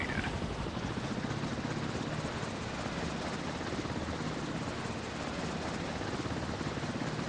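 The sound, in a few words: helicopter taking off from warship in mobile video game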